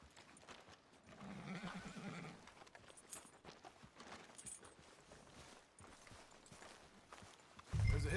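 A horse in Red Dead Redemption 2 clops along with faint hoofbeats and a soft whinny, quiet and partly under voices and ambient game noise.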